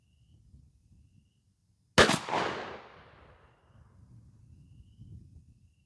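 A single loud shot from a 12 gauge Mossberg 500 pump shotgun with a 30-inch fixed full choke barrel, firing a Herter's 1-1/4 oz #4 shell outdoors, a sharp crack followed by a long fading echo over faint background noise.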